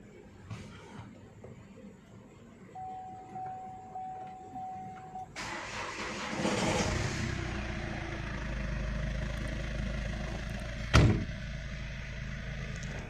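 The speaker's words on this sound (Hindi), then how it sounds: "गाड़ी को स्टार्ट करते हैं पहला।" A Chevrolet Cruze with an AC fault cranks and starts after a quiet stretch, then settles into a steady, close idle. A sharp knock sounds a few seconds after start-up.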